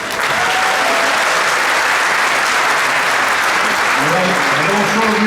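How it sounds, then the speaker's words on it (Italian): Loud, dense applause from a political rally audience for a Lega party list candidate in Italy, a steady wash of clapping throughout with crowd voices and shouts rising over it near the end. "Tanto grazie per il calore, però un po' gli applausi risparmiateli"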